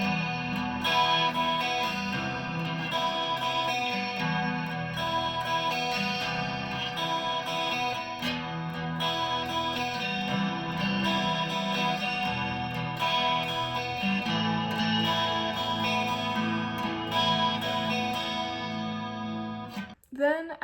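Verse of a song strummed on guitar in a steady up-and-down pattern, with ringing sustained chords and a bright, slightly effected tone, close and continuous for about twenty seconds before stopping abruptly.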